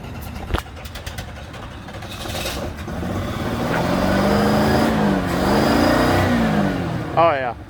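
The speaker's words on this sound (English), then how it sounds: "Oh yeah, that's what that motor needs. RPM. Gotta give us some gas, man." A Dodge D150 pickup truck engine is floored in a yard, its revs climbing into a loud, sustained roar that holds for several seconds, with a brief sharp noise near the start and a voice and squeal near the end.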